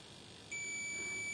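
A multimeter in continuity mode gives a steady high-pitched beep while probing the display connector points of a realme C20 phone with a dim LCD light fault, starting abruptly and holding under low background hiss.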